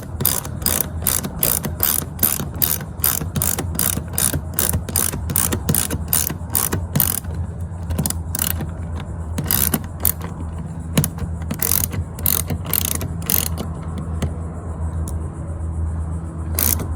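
A ratchet clicks in quick, repeated strokes while tightening a fender bolt on a Tesla Model Y mud flap, a close, sharp rhythm that pauses and resumes in shorter bursts toward the end.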